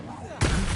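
A fire spell is cast in a wizard video game, a sudden loud whooshing burst that cuts in near the end and roars on steadily, following quieter background ambience.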